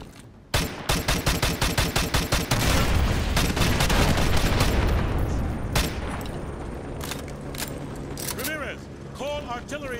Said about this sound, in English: Ramirez, use your laser designator to call in artillery on those vehicles. Fire mission received. Artillery inbound.